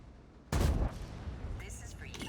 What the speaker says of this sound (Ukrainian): я думав, начебто це вже снаряд арти летить по мені